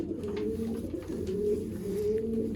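Sialkoti pigeons coo softly and continuously, with layered low throaty calls overlapping in a quiet loft setting.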